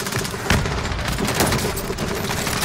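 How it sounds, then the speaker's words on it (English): Dense gunfire and blasts fill a Call of Duty battle royale match, a continuous loud barrage of overlapping shots and explosive booms with a grenade going off amid the rapid fire. "Grenade one out."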